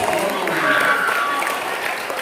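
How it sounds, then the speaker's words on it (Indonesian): Listeners at a Maulid Nabi religious talk give Laras a warm, continuous round of applause, with crowd noise and a faint whistle-like tone over the steady clapping. "Tepuk tangan untuk Laras."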